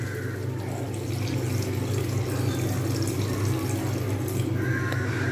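Water is poured into a cooking pan of Bengali carrot curry, a steady continuous splashing and running-water sound held close and even throughout.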